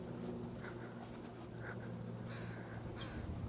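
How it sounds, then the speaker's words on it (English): Outdoor field ambience at Sargeant Bay on a spring morning with steady low hum, and a few short harsh calls of crows flying overhead cutting through at a distance. "Crows flying overhead."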